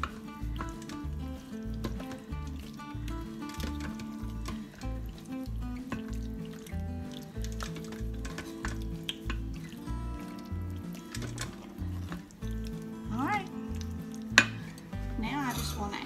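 Sauce bubbling and thickening in an Instant Pot with potatoes and ham, a steady close sizzle and simmer with occasional stirring clicks and drips, sounding alone without talk.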